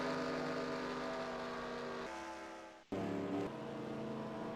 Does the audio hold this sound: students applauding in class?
no